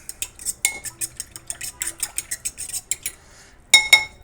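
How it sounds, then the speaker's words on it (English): A utensil scrapes and clinks against a bowl of chicken in marinade in quick, regular strokes, then a short pause and a couple of louder knocks. "Stir it around real good."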